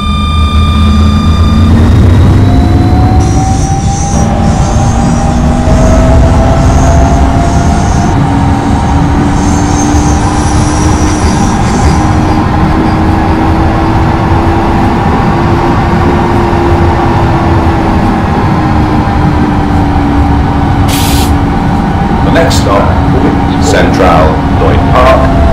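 A tram runs steadily along its rails from Mitcham Junction to Lloyd Park with a continuous low rumble and a rising-falling motor whine, with faint squeals and clicks near the end.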